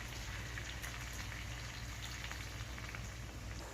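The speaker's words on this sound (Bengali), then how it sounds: "তো আমি একটু হালকা জল দিয়ে দিচ্ছি।" Chicken curry simmers in a pot with water added to thin the gravy, producing a dense, continuous bubbling and hissing that stays steady and fairly quiet, with no voices.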